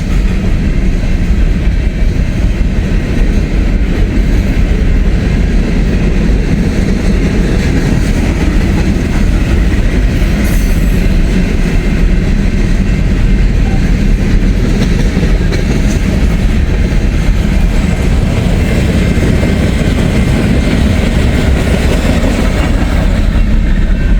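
Trains roll over a railroad diamond crossing in a small Indiana town, a steady loud rumble of rail cars and wheel clatter that continues without a break throughout.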